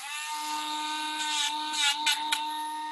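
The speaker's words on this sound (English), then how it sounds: "we're just going to take the ends off of these guys with the Dremel" Dremel rotary tool whirs at a steady high pitch while grinding down a dog's toenails, with several short louder gritty bursts as it touches the nail, close and quiet.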